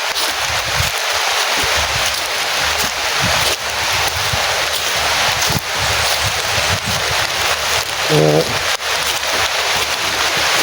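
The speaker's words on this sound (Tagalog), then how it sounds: "Malakas yung ulan." Heavy rain pouring steadily and loudly, a dense continuous roar of drops with gusty wind noise on the microphone.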